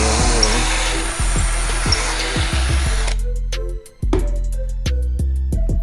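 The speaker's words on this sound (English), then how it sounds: "Now you put the drill in the drill bit and you're ready. Just sink it into this hole" A power drill bores a pocket hole through a Kreg jig, a loud sustained whine with repeated pitch drops as the motor loads, then it stops and short bursts and clicks follow.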